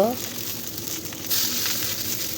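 Beef fritters wrapped in bottle gourd leaves fry in oil, giving a close, steady sizzle with a brief flip-and-stir clatter at the start and a louder burst of hissing midway.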